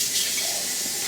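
Water filling a rendering pot from a tap for melting tallow, a steady faint hiss of running water with no other sounds.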